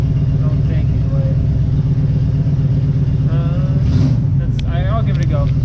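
A Chevy 327 small-block V8 in a Nova runs loud and close with a deep, steady rumble that rises as throttle is applied, and a voice speaks briefly over it.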